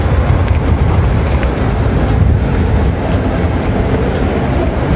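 Paris Metro line 5 train passing near the Quai de la Rapée station in cold afternoon air, a steady loud broadband rumble with rail noise and some wind buffeting on the microphone, continuous for the whole stretch with no talking.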